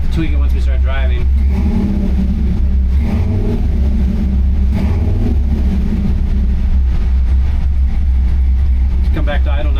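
An LS3 V8 idles in a C10 pickup running a Holley Terminator X: a steady, loud, low rumble throughout, with someone talking over it at the start and end.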